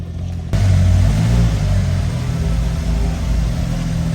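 A rear-wheel-drive turbocharged Honda K24-engined car running 47 psi of boost pulls off for a drive round the block, its engine note jumping suddenly to a loud, close, droning growl that holds steady, with faint talk beneath.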